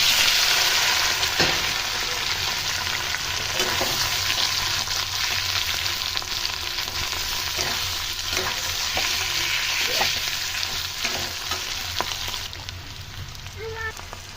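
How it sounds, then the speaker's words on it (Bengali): Half-boiled potatoes fry in hot mustard oil, with a loud, continuous close-up sizzle and repeated stirring scrapes and clinks of a spatula against the pan. "এবার এখানে আমি ওই তেলে দিয়ে ভেজে নেব।"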